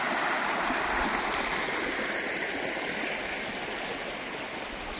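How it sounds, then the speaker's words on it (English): A brook beside a gravel pit campsite in Newfoundland flows with a steady, dense rushing and gurgling, close and continuous with no voices. "There's the brook we got to listen to tonight."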